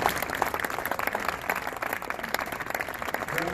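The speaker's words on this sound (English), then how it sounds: "Give a round of applause," A crowd applauds for a baseball pitcher at a charity grant presentation ceremony, a continuous wash of clapping at moderate distance with no voices standing out.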